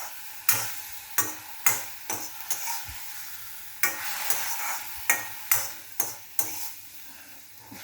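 Manathakkali greens sizzle in ghee in a pan while a spoon repeatedly scrapes and stirs, sharp clinks against the metal coming at an uneven rhythm, close by.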